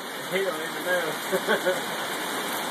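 Hard, steady rain pours down outdoors in a downpour, a continuous broadband hiss filling the scene while a person talks briefly over it.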